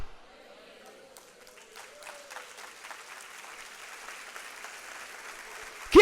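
A church congregation claps after a sermon, faint and steady applause building at a moderate distance for several seconds before a sudden loud burst at the end.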